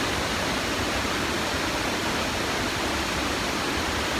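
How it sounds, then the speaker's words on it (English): A waterfall in the Coed-y-Brenin valley in Wales, a loud continuous rushing roar of falling water, steady and unbroken throughout with no voices. "So what an amazing waterfall here."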